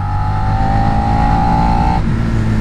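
A 2017 Suzuki SV650 Sport Edition twin-cylinder motorcycle drones loudly and steadily under throttle, its pitch holding and then dropping slightly as the revs fall off near the end.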